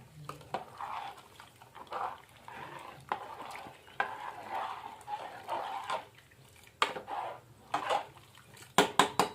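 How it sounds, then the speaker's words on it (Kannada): Food being stirred and mixed in a pot with added salt, a spoon scraping and sloshing in irregular bursts, close and fairly quiet, with a few sharper clinks toward the end. "ಹಾಕೊಂಡು ಎಲ್ಲ ಮಿಕ್ಸ್ ಮಾಡ್ಕೊತೀನಿ ರೀ"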